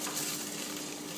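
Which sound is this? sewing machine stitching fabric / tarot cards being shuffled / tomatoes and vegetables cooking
tomatoes and vegetables cooking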